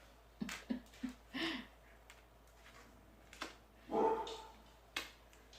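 A few small dogs bark in short yappy bursts, four quick barks close together, then a louder longer bark and one final yap, close by indoors.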